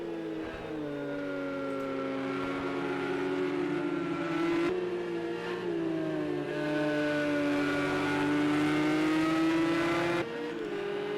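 GT3 endurance race cars scream through an online PS4 racing game, engines droning at high revs with rising and falling pitch as they shift and corner, steady and loud with no voices.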